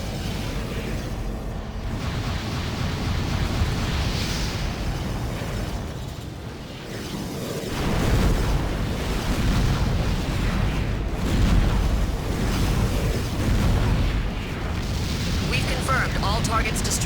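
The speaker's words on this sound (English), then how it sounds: "These guys are definitely firing more missiles." Enemy missiles fire and burst into rumbling explosions in the mech combat game Armored Core For Answer, a dense, continuous barrage of booms and blasts that swells and recedes, with a voice talking over it.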